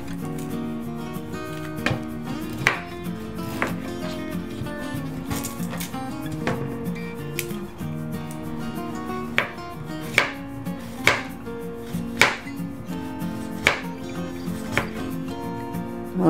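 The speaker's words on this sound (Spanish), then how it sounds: "Ahora vamos a picar el ajo, la cebolla y el tomate rojo." Garlic, onion and tomato chopped on a cutting board, a run of sharp, uneven knife taps, close and clear over a soft steady background.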